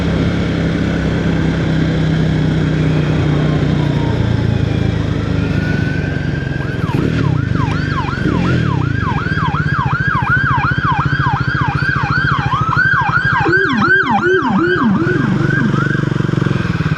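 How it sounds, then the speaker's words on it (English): An ambulance siren wails through road traffic, heard from a motorcycle, with the warbling, up-and-down tone arriving partway through and growing loud and close over a constant rumble of engine and wind. "Here comes that ambulance again."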